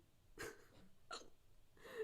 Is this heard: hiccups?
yes